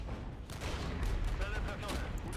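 Artillery shelling in a realistic real-time strategy game: a dense, continuous barrage of booming blasts and crackling impacts over a constant low rumble, with someone talking over it.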